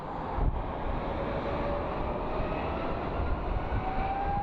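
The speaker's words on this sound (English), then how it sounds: "It's an Airbus A220." Airbus A220 airliner arriving at Phoenix Sky Harbor, a steady distant jet roar with a faint rising whine, fairly quiet and unbroken.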